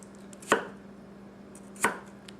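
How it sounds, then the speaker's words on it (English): A Tsutomu Kajihara 210mm gyuto chops through celery with a slight rocking motion, producing two crisp, close knife strikes against the board about a second apart in an otherwise quiet room. "I'll use a little bit of rocking on the celery."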